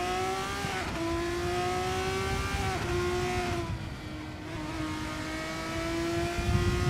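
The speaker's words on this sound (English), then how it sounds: "Downhill braking here, hard on the brakes for the chicane." Sim race cars in a racing game at the Monaco chicane: a steady, loud engine whine with tonal harmonics that dip and recover as the cars brake and shift, continuous without voices.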